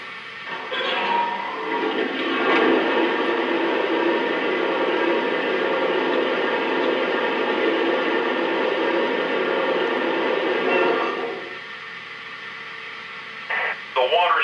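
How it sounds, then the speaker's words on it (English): A Lionel Nickel Plate Road 765 2-8-4 Berkshire model locomotive sound effect: a continuous rushing, hissing gush of water filling the tender runs for about ten seconds before stopping, with faint radio-like chatter near the end. "here's the sound of water being added to the tender"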